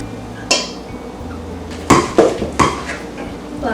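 An egg is worked into potato croquette dough for a gluten-free recipe, heard as a few sharp clanks and knocks of a utensil against a bowl, spaced irregularly over a quiet kitchen background.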